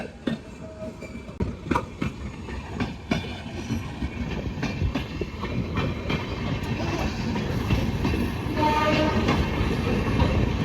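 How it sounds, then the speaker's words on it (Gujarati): A passenger train of air-conditioned coaches with glass windows rolls past close by, a steady rumble and rail clatter building over several seconds while its horn sounds, with no talk. "ટ્રેનનો પાવો પણ સંભળાવા માંડ્યો છે જો ટ્રેન આવી ગઈ છે"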